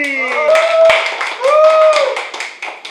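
An audience claps in welcome for Lizzy at a lively event, brisk uneven applause over a voice talking with a sweeping, sliding tone.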